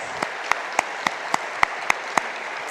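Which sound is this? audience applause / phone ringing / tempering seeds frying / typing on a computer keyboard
audience applause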